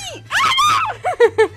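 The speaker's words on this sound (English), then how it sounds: "It's like the most genuine screams you can record on audio." A woman screams loudly and genuinely in a burst while playing SpeedRunners with friends, followed by short sharp shrieking yelps, close and alone.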